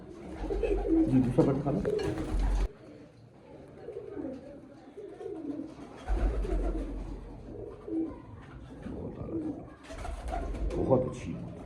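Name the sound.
breeder pigeons cooing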